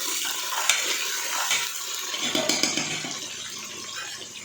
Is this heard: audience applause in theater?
no